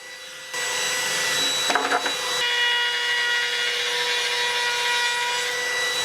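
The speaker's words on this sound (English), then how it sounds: "For the long lengths, I used my Melif cordless router." Cordless router rounding over the ends of wooden 4x2 lengths, a loud sustained high-pitched motor whine with a short rough chatter as the bit bites into the timber, running steadily throughout.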